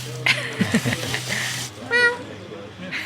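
A cat meows on a coffee farm in the hills near Medellín, Colombia, with a single clear call rising near the end after a stretch of voices and background noise.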